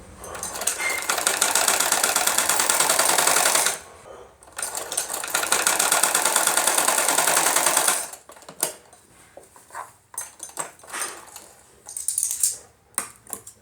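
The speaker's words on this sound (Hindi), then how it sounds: "अब हमने एक साइड से तो सिलाई लगा ली, अब हमने दूसरे भाग में भी सिलाई लगानी है।" Sewing machine stitching a seam on a belted salwar, two long steady runs of fast rhythmic needle clatter, close and loud, separated by a short pause, then scattered clicks and handling noises.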